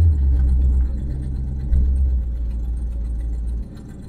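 An old Ford Ranchero engine idles with a low, uneven rumble that dips and surges slightly, heard close up with no talking, its exhaust donut leaking badly.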